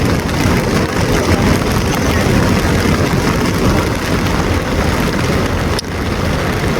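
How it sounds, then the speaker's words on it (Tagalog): Heavy rain pours steadily beside a swollen river in Angat, Bulacan, a loud continuous broadband hiss close to the microphone with no voices. "umuulan na naman, ayaw na namang magtigil, bumubuhos na may ulan"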